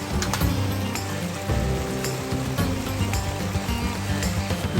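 A river running high after a little rain, heard near a small bridge at an RV park: steady, full rushing water with broadband wash and splashing, continuous and fairly loud throughout, with no talk.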